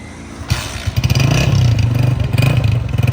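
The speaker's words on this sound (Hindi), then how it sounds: "भाई जान स्टार्ट करना बाइक को।" A 2025 Honda 125 motorcycle engine starting, catching and settling into a loud, close, rhythmic thumping idle with clattery mechanical texture, no voices.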